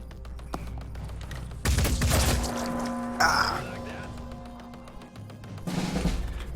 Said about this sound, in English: The Jericho rifle is actually a really good weapon